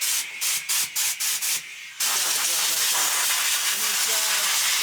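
Spray cleaning on the axle of a heavy-duty Mack truck during rear brake shoe service: about six short, sharp hissing bursts, then one loud continuous close-up hiss.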